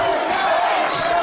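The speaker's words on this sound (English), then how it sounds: "The crowd, as you can hear, is getting behind the goods" Wrestling crowd cheering for The Goods in his match against Kenny Bengal, a dense, steady chant-like roar from many voices over a brief moment.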